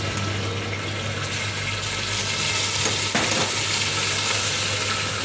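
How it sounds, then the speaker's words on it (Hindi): Ginger garlic paste frying in hot desi ghee gives a loud, continuous hiss and sizzle that holds steady for about five seconds, close up, with no voices. "इस घी गर्म हो गया, इसके अंदर थोड़ा सा जिंजर गार्लिक पेस्ट,"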